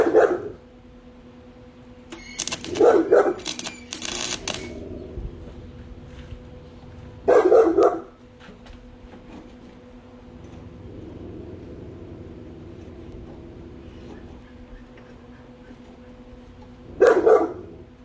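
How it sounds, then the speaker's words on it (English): A loud dog barks in short bursts, three or four separated barks spread across the stretch, near and sharp against a quiet outdoor background. "I can't stand a loud ass barking dog."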